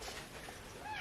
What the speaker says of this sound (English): Excuse me while I get rid of a cat.